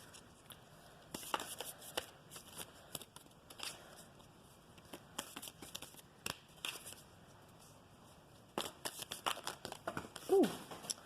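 Chakra oracle cards are shuffled by hand for a reading, giving soft, scattered riffling bursts and papery flicks that come in irregular clusters, quiet and close, over a faint background hum.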